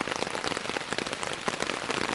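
Heavy rain drums hard on a camping tent during wild camping, a dense constant patter close overhead, loud and unbroken with no speech.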